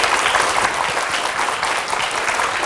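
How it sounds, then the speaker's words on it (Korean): A studio audience at a televised lecture claps in a steady, dense burst of applause that fills the whole moment without a pause. "힘찬 박수 부탁드립니다."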